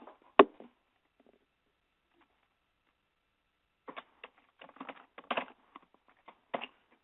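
Keyboard typing during a finite element analysis software session: a single sharp keystroke, a pause of about three seconds, then a quick burst of soft, irregular clicks close to the microphone.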